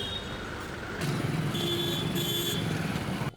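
Car horns honk in busy Indian traffic, a couple of sustained electronic beeps sounding over a steady engine and road hum.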